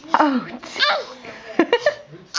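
A little girl sneezes in a few quick, sharp bursts mixed with childlike vocal sounds, while an adult voice briefly exclaims nearby.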